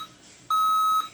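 A computer motherboard with its RAM missing gives a single short, loud, steady electronic beep lasting about half a second, with no talk over it.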